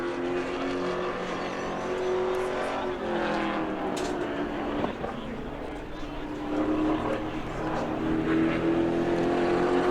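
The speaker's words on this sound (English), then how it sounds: "So Dave Warning, car number 112 on the clock." A sportsman race car engine howls continuously on a qualifying lap at New Smyrna, its pitch climbing and dropping through gear changes, with a voice talking over it.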